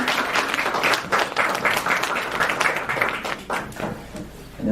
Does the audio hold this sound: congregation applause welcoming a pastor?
yes